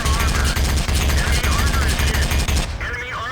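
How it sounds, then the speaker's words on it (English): A modded tank gun in the World of Tanks video game fires a rapid, evenly spaced stream of loud, heavy shots for about two and a half seconds, then cuts off abruptly into a fainter tail. "as you can see, the gun sounds better"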